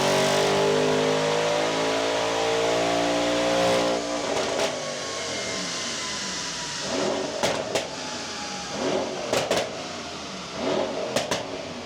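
A tuned Stage 2 Mercedes-AMG E63 S revs hard on a dyno, with a loud, sustained engine roar whose pitch sweeps as it builds. The roar then drops back to an idle broken by several sharp blips and pops.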